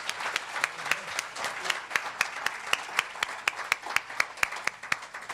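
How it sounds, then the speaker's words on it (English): A modest audience at a Patriotic Millionaires symposium applauds the board chair, a sparse run of distinct, fairly regular hand claps over several seconds rather than a dense roar. "Thank you for that nice round of applause for our board chair, Morris Pearl"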